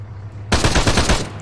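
Sustained machine gun fire in Arma 3, a dense rapid burst starting abruptly after a quiet engine-like hum and running loud and close to the end, alone without talk.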